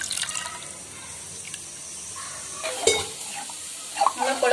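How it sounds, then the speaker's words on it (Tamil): Tamarind water is poured into a simmering lamb leg gravy, giving a soft splash and liquid trickle, then gentle bubbling and sizzling with stirring clinks, close by and quiet. "புளித்தண்ணி நல்லா எடுத்து இப்படி ஊற்றிக்கோங்க."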